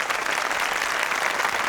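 Dense applause from a crowd, many hands clapping continuously in a brief, steady burst with no break.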